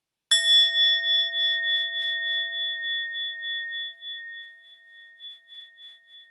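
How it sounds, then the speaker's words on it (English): A single meditation bell is struck once during an online Sangha gathering, ringing out with a clear, sustained tone that fades slowly over several seconds, heard alone. "I would like to invite one sound of the bell, and then Aurora may unmute herself."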